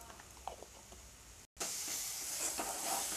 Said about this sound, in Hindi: मसाला को अच्छा तरह भुनना है।